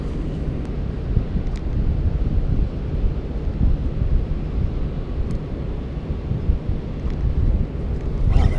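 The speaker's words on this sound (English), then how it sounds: "Good lord, this wind is brutal." Steady, strong wind buffets the microphone outdoors while fishing for walleye, a continuous low roaring rumble with no letup across the whole stretch.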